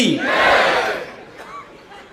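A crowd at a village fair (jatre) roars a collective victory chant, a loud massed shout swelling in the first second and then tapering into scattered voices.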